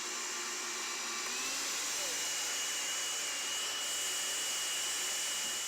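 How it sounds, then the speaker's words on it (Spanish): A kitchen blender whirs steadily, liquefying a chicken stew seasoning mixture with about a quarter cup of water for Ecuadorian seco de pollo. The motor drone is constant and close, with no talking over it. "Y lo ponemos a licuar entonces"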